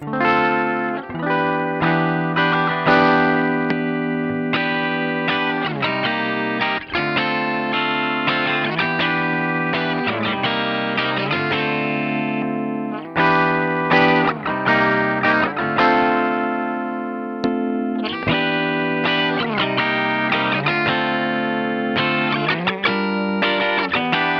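Electric guitar strummed steadily in a continuous rhythmic pattern through a Marshall ED-1 compressor pedal, the attacks evened out by compression, loud and sustained with no talking.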